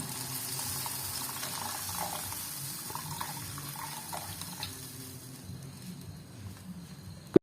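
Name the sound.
water poured into a chicken curry pot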